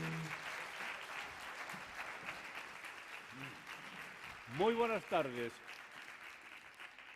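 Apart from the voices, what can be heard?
audience applause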